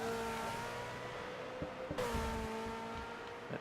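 A V8 Supercar races through a corner during qualifying, its engine note sustained and steady, with a sharp burst near the middle as it shifts or passes close, loud and with no talk over it.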